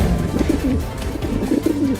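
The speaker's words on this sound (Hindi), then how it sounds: "चिंकी, वहाँ देखे कबूतर हमारे घर में घुस गया है और वहाँ वो दाना चुग कर खा रहा है।" A pigeon that has wandered into a house to peck at grain gives repeated soft, throaty coos in a steady rolling rhythm, close and fairly loud, with no one speaking.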